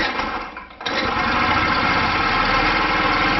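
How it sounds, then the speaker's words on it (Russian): A scooter engine with its carburetor attached is started on the electric starter; after a brief cranking lull it catches and settles into a steady, close idle. "Завожу с стартера."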